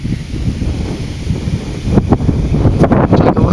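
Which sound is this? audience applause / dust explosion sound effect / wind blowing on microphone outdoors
wind blowing on microphone outdoors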